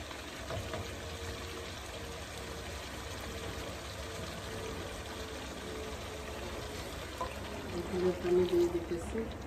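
Water is poured into a simmering beef curry, a soft trickling splash under a faint background hum, briefly louder with a bubbling rattle near the end.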